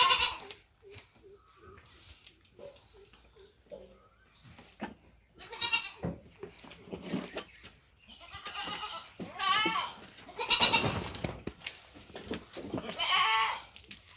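Tethered farm goats bleat repeatedly, with several loud, close calls and softer ones between, over a quiet background with occasional low voices.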